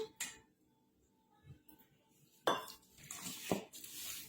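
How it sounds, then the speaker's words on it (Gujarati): A spoon stirs gram flour batter for spinach fritters in a bowl, giving sparse, quiet clinks and scrapes with louder knocks toward the end in an otherwise quiet kitchen. "હવે મિક્સ કરીને સરસ એવું બેટર બનાવી લઈશું આપણે."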